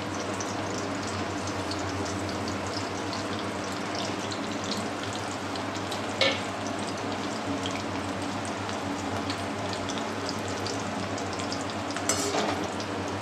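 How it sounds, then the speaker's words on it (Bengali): Mustard seeds in hot oil for a lemon rice tempering make a steady, crackling sizzle with scattered small pops and a couple of sharper sputters, heard close with no voices. "রেখে দিচ্ছি 1/4 চামচ সর্ষে ফোড়ন।"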